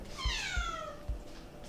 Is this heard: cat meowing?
yes